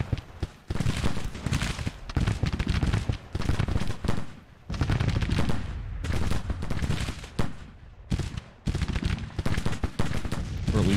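Artillery fires shells across a Civil War battlefield in the strategy game Grand Tactician: The Civil War, with repeated heavy booms and crackling volleys coming in dense bursts and brief pauses, loud and continuous throughout.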